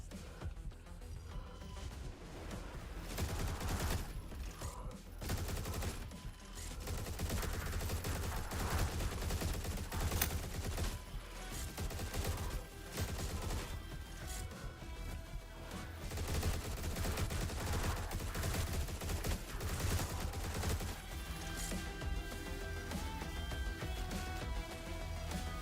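Gunfire in a video game: repeated bursts of shots and fusillades over a dense game soundscape, continuing for the whole stretch with no talk.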